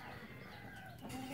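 Bangkok chickens, fighting-breed fowl in a backyard coop with a hen and a rooster, give soft scattered clucks and a faint rooster call under a steady, fairly quiet background hiss.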